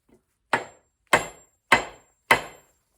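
Four sharp, evenly spaced hammer taps ring out on a crankshaft during a 440 V8 Mopar engine rebuild, each strike crisp and metallic with a short decay, alone in a quiet shop.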